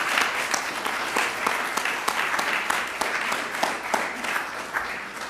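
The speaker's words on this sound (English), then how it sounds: "Our service is basically over, so we are allowed to applaud." Congregation applauding at the close of a Shabbat evening synagogue service, steady dense clapping from many hands filling the room throughout, with no talk over it.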